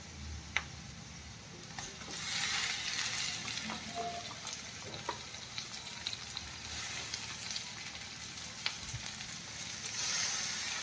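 Tomatoes sautéing in hot oil for chicken liver masala, a steady close sizzle and fry with occasional stirring clicks, no voices.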